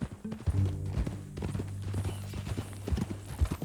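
Horse hooves clip-clop steadily in Red Dead Redemption 2, a mounted ride through the Old West, with a bright rhythmic patter of steps over a low tonal engine-like hum of game music.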